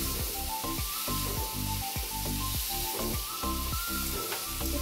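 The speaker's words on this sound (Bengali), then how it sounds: "ডুমো ডুমো করে কেটে রাখা আলুগুলো দিয়ে স্বাদ মতন লবণ দিয়ে হালকা ভেজে নিতে হবে।" Diced potatoes with salt fry in a pan where peanuts were just fried, giving a steady, close sizzle that runs throughout beneath loud, continuous background music.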